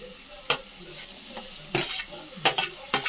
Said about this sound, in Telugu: టమాటా వేస్తాం ఇప్పుడు. ఫ్రై అవ్వాలండి బాగా.